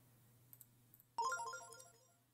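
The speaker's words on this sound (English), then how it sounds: "I'm getting a phone call." A cheerful in-game phone ringtone from the Tomodachi Life video game kicks in abruptly after a few faint blips, playing a bright, melodic tonal jingle that rings loud and close, then slowly trails off.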